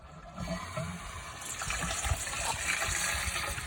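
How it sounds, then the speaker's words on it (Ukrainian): Water poured into a grape sprayer tank, a quiet, continuous splashing gush that builds slightly in level and runs steadily throughout. "спершу заливаю воду"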